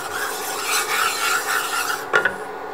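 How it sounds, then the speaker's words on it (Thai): Coconut oil is spread around a wok, making a steady close scraping and rasping that ends in a couple of sharper clinks near the end. "เกลี่ยน้ำมันให้ทั่วกระทะนะคะ"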